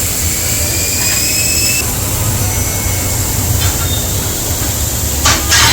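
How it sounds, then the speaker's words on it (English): A wheel balancing machine spins an alloy wheel fitted with a new 235/60 R18 tyre, giving a steady, loud whirring drone with a thin high whine that holds throughout. "So now wheels are even getting balanced. So we're doing wheel balancing."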